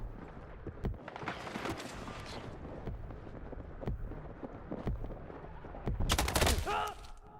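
Gunfire in the shooter game Battlefield 6 in Breakthrough mode, with M16 rifles among the weapons: repeated sharp shots and short bursts over a constant game din, growing louder and denser near the end.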